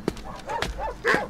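A German dog gives several quick, close barks in a short burst, one after another.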